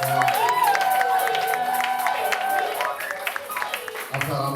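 A church congregation at a Sunday service cheering and clapping for the Lord, a lively crowd roar with whoops and applause mixed with voices throughout.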